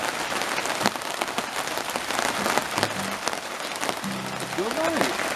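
Rain falls outdoors in a steady hiss with scattered drops, while voices murmur close by.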